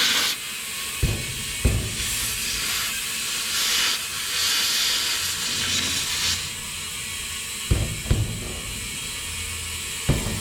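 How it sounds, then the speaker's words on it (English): A tractor tire hit with a tipless air gun to seat the bead gives off a loud steady rushing hiss that runs the full length, broken by a few short sharp pops and clanks near the start and end. "use the air gun with no tip on it so I get lots of flow to seat the bead"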